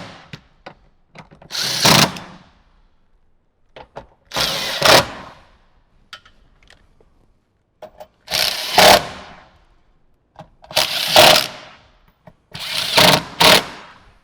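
Short bursts from a power drill or impact driver tightening six bolts during a speaker install in a 2018–2023 Jeep JL, five separate runs of about a second each with quiet gaps and light clicks between them.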